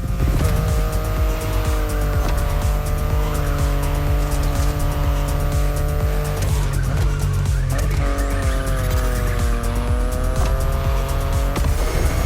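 BMW i8 driving in the racing game The Crew Motorfest, with a steady engine drone with shifting tones and repeated tire squeals and skids, loud and continuous, with brief gear-change dips midway.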